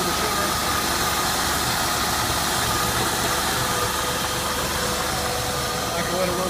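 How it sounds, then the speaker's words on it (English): A 2003 Ford Escape's 3.0-litre Duratec 24-valve V6 idles steadily with all-wheel drive, a smooth, even engine hum with broadband noise running unbroken throughout and no speech over it. "This is a 2003 Ford Escape with a 3-liter V6 all-wheel drive."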